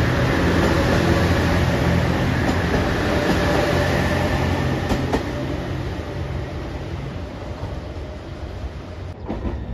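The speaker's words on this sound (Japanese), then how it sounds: "黄色いアンパンマン列車特急南風6号岡山行き" A yellow Anpanman limited express Nanpu of JR Shikoku rumbles past loud and close, with steady rail roar and faint rhythmic wheel clatter that eases slightly toward the end.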